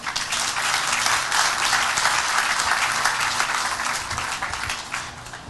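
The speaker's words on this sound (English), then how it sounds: "You guys give yourselves a round of applause." Sustained, dense applause from a large audience at a city address, many hands clapping together into a steady roar that holds at full strength throughout without pause.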